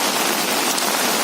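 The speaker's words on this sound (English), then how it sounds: "It's heavily raining." Heavy rain pours steadily in Airoli, Navi Mumbai, a dense, loud, unbroken hiss of drops hitting surfaces, heard alone without any talking.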